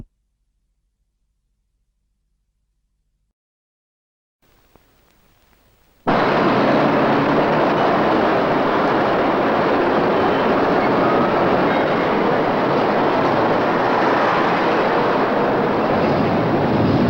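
After a few seconds of near silence, a train passes close by with a loud, sustained rumble and rattle of wagons that fills the rest of the stretch.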